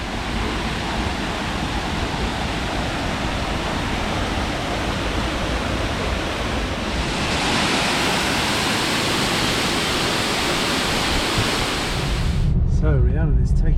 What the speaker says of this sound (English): very pretty little waterfall